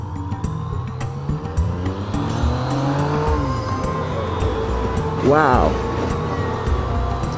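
A 2015 Yamaha FZ-09 motorcycle rides along a road, its engine droning and shifting pitch as it accelerates, with a brief rising whine midway; a voice exclaims once.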